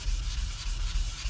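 Hand wet sanding of intense blue paint on the body of a 1971 VW Super Beetle, rapid rhythmic back-and-forth rubbing strokes, close and steady with no voices.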